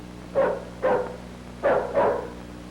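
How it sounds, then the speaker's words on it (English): A dog barks four times, close and fairly loud, in two pairs separated by a short pause. "Sounds like a dog to me."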